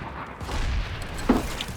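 A grenade detonates in the sci-fi shooter PlanetSide 2, giving a sharp boom amid ongoing game gunfire and battle noise, with a thump partway through over a dense combat background.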